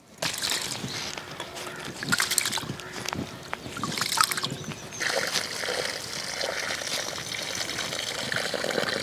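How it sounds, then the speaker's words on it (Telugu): Basmati rice being washed in water for crab biryani in a home kitchen, a steady trickling and sloshing of water with splashes and a shift to a louder pour partway through. "రైస్ అయితే 1-2 సార్లు శుభ్రంగా కడుక్కోవాలి."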